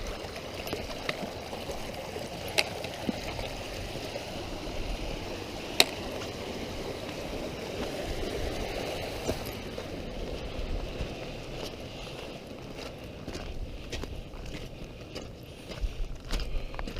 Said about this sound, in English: how I'm going to cross the river without getting wet